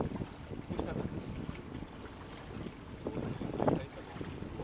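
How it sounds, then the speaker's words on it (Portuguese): A motorboat engine runs steadily while the boat is piloted on a SAMU navigation course at Cubatão, with wind buffeting the microphone and water noise, a brief louder surge near the end, and speech partly mixed in. "Agora nós estamos vendo o Azevedo pilotando a lancha"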